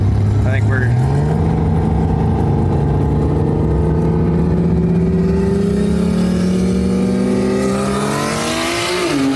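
A tuned BMW M3 engine revs hard and accelerates, its pitch climbing steadily through a long loud pull heard from inside the car, with an upshift early on and occasional voices under the roar.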